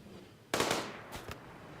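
Video game gunshots: two short bursts of loud cracking shots, the first a rapid cluster and the second a briefer pair, over a faint steady background.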